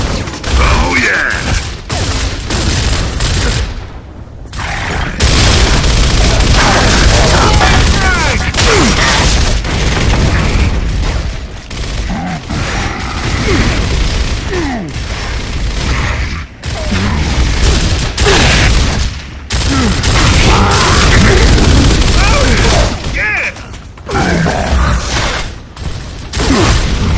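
Gunfire and heavy impacts from Gears of War combat as enemies are shot down, dense loud bursts of shots, booms and mechanical clatter running nearly continuously, with brief lulls and some voices mixed in.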